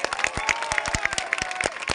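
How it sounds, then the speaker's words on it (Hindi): Crowd at a political rally in Bhiwandi clapping for Maha Vikas Aghadi leaders, with sharp, distinct hand claps spaced through a steady wash of applause, fairly close and loud, no talk over it. "महाविकास अघाड़ी के तमाम नेताओं के लिए तालियां बजा दीजिए।"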